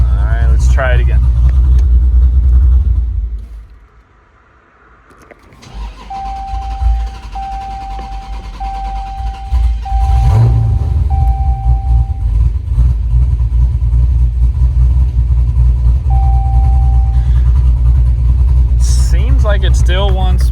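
A 426 Hemi in a Dodge Challenger build starts up and runs with a deep, loud, lumpy rumble. It cuts out briefly, fires again and settles into a heavy, uneven idle close by, with short beeping tones over it.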